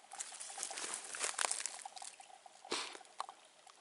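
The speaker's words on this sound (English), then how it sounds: "Listen to the bubbling water." Water bubbles and trickles beside a mossy hiking trail near a village, a steady gurgling patter with small splashy bursts, close by and continuous.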